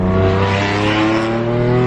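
BMW F82 M4 fitted with an Armytrix Valvetronic exhaust, heard loud and close as the engine blips and its pitch shifts during a downshift, rich harmonics with a brief rasp.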